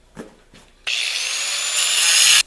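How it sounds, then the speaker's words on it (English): Angle grinder with a cutoff wheel biting into steel for a heavy-duty shop-made vise stand, a loud, bright, sustained shriek of about a second and a half after a couple of light knocks, cutting off abruptly. "Using the cutoff wheel, so I've got a full face shield and ear protection in."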